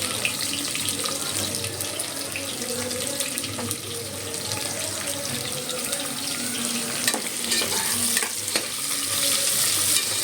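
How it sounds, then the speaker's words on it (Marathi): Sliced onions frying in oil for mutton masala, a steady broadband sizzle with occasional stirring clatter and scraping, close and continuous for the whole stretch. "कांदा मस्त तेलात लाल करून घ्या."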